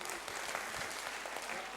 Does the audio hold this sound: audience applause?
yes